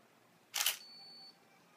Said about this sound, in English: you could hear the shutter turning on